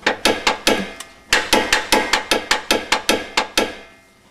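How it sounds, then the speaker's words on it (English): Spohn panhard bar bushing on a GT500 rattling back and forth in its bracket, a rapid series of about fifteen sharp metallic knocks in an uneven rhythm, close and loud with brief gaps. "It's basically rattling back and forth inside the bracket"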